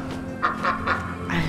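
Ducks honk in the video game Lost Ember, three short calls in a row followed by a longer one, moderately loud over a steady ambient game background.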